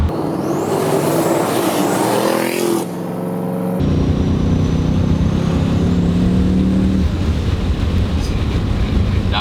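Loud engine roar from a heavily modified sleeper Mustang GT pulling hard through the gears, with rising revs, an abrupt shift break near three seconds, then sustained acceleration close to the mic.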